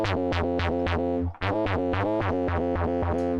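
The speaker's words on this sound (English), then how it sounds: "So we're filtering out the high frequencies there." Distorted synthesizer in Fortnite Patchwork with its high frequencies filtered out, playing a steady pulsing pattern of repeated buzzy notes with a brief gap partway through, loud and alone with no talking.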